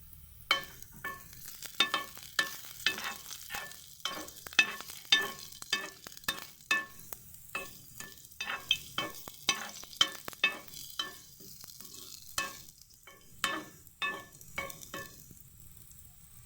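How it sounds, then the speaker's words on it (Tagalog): Garlic frying in a pan until golden brown for adobong kuhol, a soft continuous sizzle punctuated by repeated scraping stirs at an irregular rhythm, close and fairly quiet, with no talking. "Hintayin natin mag golden brown ang bawang."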